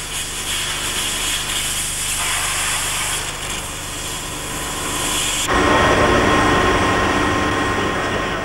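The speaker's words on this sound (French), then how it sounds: "Il est également possible de découper, grâce au jet d'eau, des produits contaminés ou explosifs." An industrial water jet cutting machine runs with a steady, loud high-pressure hiss and roar, growing louder and harsher partway through, continuous with no talking.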